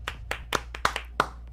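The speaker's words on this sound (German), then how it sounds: "Ein Applaus für mich." A few separate hand claps during a PC session of the shooter Rainbow Six: Siege, about six sharp claps in a loose uneven rhythm, close to the microphone and played alone.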